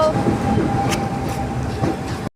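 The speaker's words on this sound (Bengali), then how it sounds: "আমাদের ট্রেন চলে এসেছে, আমরা এখন ট্রেনে উঠবো।" A train pulls into a station, its wheels and carriages rumbling and clattering close by in a loud, steady wash with faint squeals before it cuts off.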